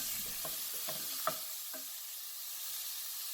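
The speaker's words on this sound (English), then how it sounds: "So I'm just going to saute and brown the meat well." Marinated beef sautés and browns in an oil-free non-stick pot for Korean seaweed soup, a soft, steady sizzle with a few light stirring knocks.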